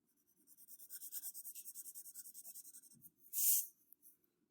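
A pencil scratches across paper in a steady run of quick rhythmic strokes, close and fairly quiet, followed by a brief louder rub or erasing swipe, with no talking.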